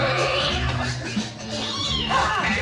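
A cartoon cat meows and caterwauls in an animated film scene, with drawn-out vocal cries over background music and effects.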